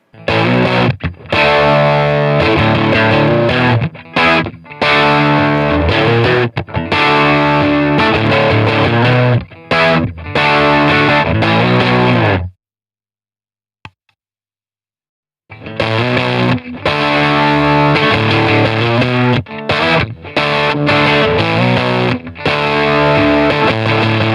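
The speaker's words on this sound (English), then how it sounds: "This is the instrument volume dimed, and then we'll introduce the boost." Heavily distorted electric guitar plays loud chords through a Fender '57 Custom Deluxe tube amp with instrument volume at maximum and a boost, pausing briefly to silence midway before resuming with the same crunchy tone.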